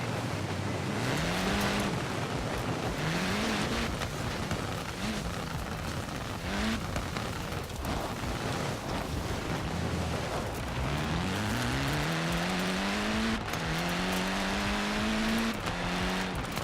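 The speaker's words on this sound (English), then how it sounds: "You can hear the whining of the engine too." Honda Civic Type R engine in the racing game Forza Horizon 4, a loud continuous whining drone that repeatedly climbs through the revs as the car accelerates and shifts.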